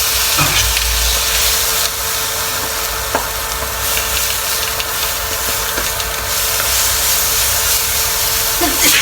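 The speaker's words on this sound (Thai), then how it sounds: "ตั้งกระทะไปผัดพริก ราดปลากันต่อเลยครับ" Loud, continuous hissing sizzle of chili paste frying in a hot wok over high heat, with occasional scrapes and pops, close up and steady throughout.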